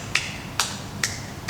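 Four slow, deliberate single claps, crisp and close, evenly spaced about half a second apart in a quiet room with no talking over them.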